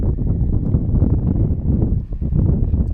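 Heavy wind buffeting the microphone at an outdoor varsity baseball game, a continuous low rumbling roar that stays loud throughout.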